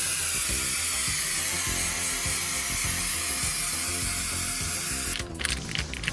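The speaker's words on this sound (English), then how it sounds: "here's the 3M spray I'm going to use." A 3M adhesive spray can hisses in one long, loud continuous burst close by while coating a part during an Intellivision ECS keyboard repair, then cuts off into brief clicks and rustling.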